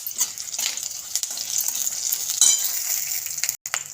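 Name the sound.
garlic sautéing in a pan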